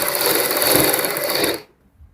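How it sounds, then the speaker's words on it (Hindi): A sewing machine stitching along buckram on a blouse back neck, a steady fast whirring run of needle strokes that stops abruptly near the end, close and loud with no talk. "इधर हम बुकरम के साथ साथ सिलाई लगाएंगे।"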